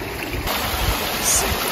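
A mountain stream rushes across a hiking trail on the Appalachian Trail on a frosty morning, a steady, close, broadband wash of flowing water with no pauses.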